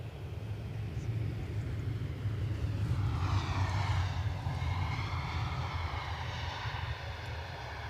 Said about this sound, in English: Now that is my favourite Embraer in today's show. I do love the 175.